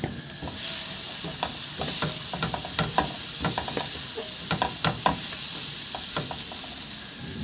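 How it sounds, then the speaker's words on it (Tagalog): Garlic sautéing in oil and margarine, a continuous bright sizzle broken by frequent sharp clinks and scrapes of a spatula against the pan, close and steady throughout. "Igisa ko na yung bawang"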